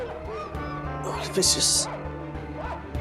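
A voice imitates a dog, giving a short yelping bark over background chatter and other voices.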